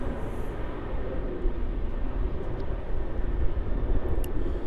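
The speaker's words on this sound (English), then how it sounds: "you'll get a nice glimpse of the Emirates A380 taxiing out there" An Emirates Airbus A380 taxis at Melbourne Airport, its engines producing a continuous low rumble heard from a distance, steady and unbroken with no talk.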